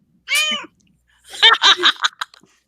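A domestic cat gives a single clear, close meow, then after a pause people burst into laughter.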